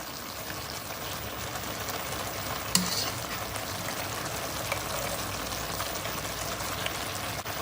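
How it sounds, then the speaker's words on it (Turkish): Pasta being stirred through melted kasar cheese in a pan, a steady soft scraping and wet stirring with faint sizzling, close and continuous, with one brief louder clink near the middle and no talk. "Şöyle yavaş yavaş bir karıştıralım."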